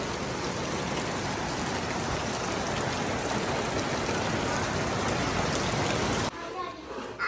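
Steady, dense rain pours down without a break, then cuts off abruptly near the end.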